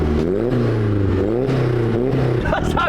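A Cupra's five-cylinder engine revs close by, its throaty tone rising and falling through several blips before easing off.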